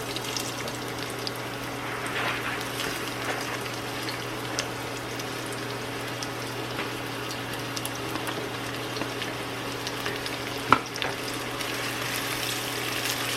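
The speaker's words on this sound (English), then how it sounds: "We're going to cook these onions until they're translucent and soft." Onions cook gently in a pan for tavern steaks, a soft, low, continuous bubbling sizzle beneath a steady hum, with one brief sharp clink partway through.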